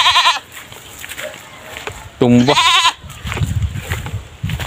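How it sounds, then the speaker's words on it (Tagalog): A goat bleats clearly a few times nearby, wavering cries rising over outdoor background noise, with a person speaking briefly. "Yan, may kambing."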